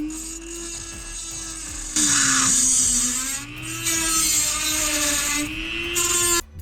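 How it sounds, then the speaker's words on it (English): A cheap handheld rotary tool spins small cutoff wheels to grind parts for a TSX car, giving a loud, continuous high whine that shifts pitch as the load changes, with a sharp jump in intensity partway through. "I'm sitting here grinding with these shitty ass little cutoff wheels, with this shitty ass rotary tool"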